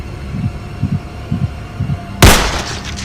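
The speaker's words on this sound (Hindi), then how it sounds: "डर के मारे मेरा दिल जोर से धड़कने लगा" A loud heartbeat effect from an animated horror story throbs in low, evenly spaced double thumps, followed by a sudden heavy burst of noise near the end.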